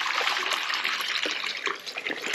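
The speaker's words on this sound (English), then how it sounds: "We put a splash of apple cider vinegar in their water." A splash of apple cider vinegar poured into a chickens' water container, a short continuous trickling, splashing pour heard up close with no talk.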